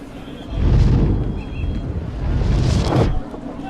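An explosion is triggered in a South Indian action film dubbed in Hindi, giving loud, deep rumbling roars that swell twice with a gritty, windy blast texture.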